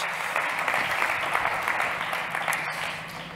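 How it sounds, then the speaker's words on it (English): A crowd applauds steadily, with dense sustained clapping that holds an even level throughout. "please give Paulina a very big applause"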